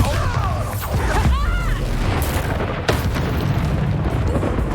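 A Bombarda blasting spell from the Hogwarts Legacy video game goes off as a loud, booming explosion, layered amid dense game effects and magical whooshes, with a voice calling out in the middle of the chaos.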